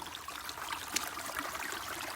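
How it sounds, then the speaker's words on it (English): A small waterfall in natural surroundings, a steady soft rushing and trickling of flowing water, faint and continuous without any talking. "The baby waterfall. The track of the water from here."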